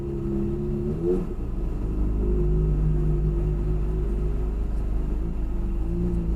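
A motorcycle engine idles roughly nearby on a street after stalling, its low rumble wavering in pitch and briefly sputtering as if struggling to keep running.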